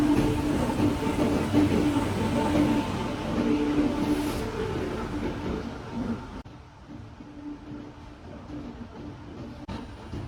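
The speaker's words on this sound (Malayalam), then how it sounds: "ഇപ്പൊ ട്രെയിൻ നമ്മുടെ പ്ലാറ്റ്ഫോമിലേക്ക് വരുന്ന കണ്ടപ്പോൾ കുറച്ചും കൂടി ആശ്വാസം കിട്ടുന്നുണ്ട്." Sri Ganga Nagar Trivandrum North Express pulling into a station platform, a steady low rumble and rattle of rolling coaches that eases slightly toward the end, with faint station ambience.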